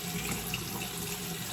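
Tap water runs steadily into a bathroom sink, a continuous close splashing stream with no talk over it.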